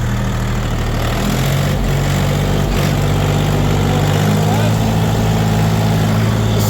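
A three-cylinder tractor engine idles close by, a steady low rumble that runs unbroken with a few faint knocks and clatters on top.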